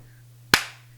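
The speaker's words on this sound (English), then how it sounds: "you didn't have to clap again" A single sharp hand clap in a quiet room with a low steady hum underneath, the crack decaying quickly.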